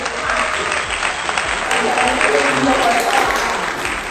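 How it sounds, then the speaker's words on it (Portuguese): An audience applauds a psychology student as he comes up at a talk show held at a university, sustained dense clapping from a crowd, loud and continuous, with a voice speaking over it. "Obrigado, obrigado pelos aplausos"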